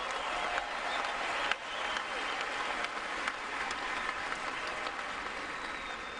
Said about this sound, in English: How about another round of applause for Maria and Victoria?